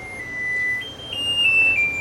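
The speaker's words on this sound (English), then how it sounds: "timer's going off" A kitchen oven timer goes off with a thin, high electronic tone that holds and shifts pitch over about two seconds, sounding moderately loud above a low steady background hum.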